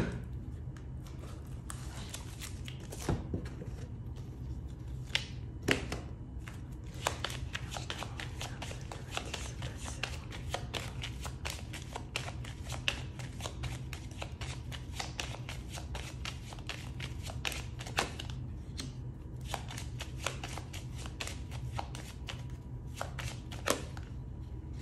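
Someone shuffles a 32-card deck over and over for about 25 seconds, giving a steady, close, soft riffling and flicking with frequent small snaps. The level is quiet and no one speaks.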